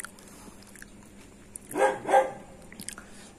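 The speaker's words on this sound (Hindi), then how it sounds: "कुत्ते की आवाज़ तो हर महफिल में सुनती होगी इस वीडियो में भी सुन ली" A dog barks twice in quick succession at moderate distance, sharp and fairly loud against a quiet indoor background with faint scattered noises.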